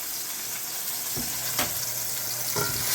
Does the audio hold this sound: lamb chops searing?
yes